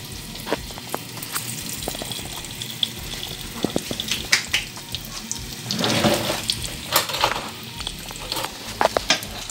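Giant fries stuffed with sausage and cheese, cooked without breadcrumbs, sizzle in heated oil; a steady hiss runs throughout, with a louder, bubbling surge midway and scattered crackles.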